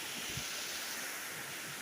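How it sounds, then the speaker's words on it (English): Waterfall in the Appalachian Mountains near Boone, North Carolina, heard from a bridge on a foggy day: a steady, faint, broadband rush of falling water with no talking. "Absolutely beautiful waterfall"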